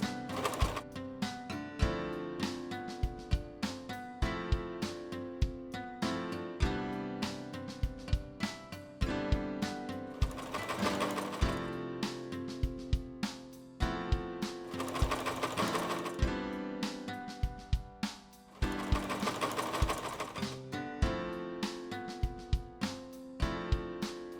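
A sewing machine stitches a rough Velcro strip onto pants, starting and ending with back stitches: fast rhythmic needle clatter in bursts with short pauses between runs, close and loud with no talk.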